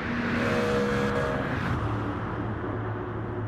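A Bugatti Chiron in Gran Turismo 7 runs flat out at 440 km/h, its engine a steady, loud, droning roar with sustained tonal whine and no pause.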